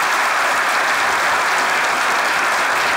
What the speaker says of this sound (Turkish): Ekstra bir alkışı hak ediyor.